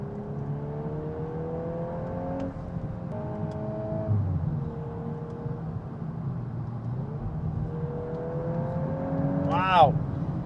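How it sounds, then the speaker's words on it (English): A car with a 4-cylinder turbo engine accelerates hard, heard from inside the cabin, its engine note climbing in pitch through several paddle-shifted gear changes with a rising rev near the end. "This is all coming out of a 4-cylinder turbo engine."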